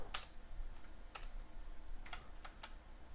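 Keystrokes on a computer keyboard while entering text in a C++ Qt program, a few separate clicks and short bursts spread unevenly over a few seconds, close and fairly quiet with a low steady background hum.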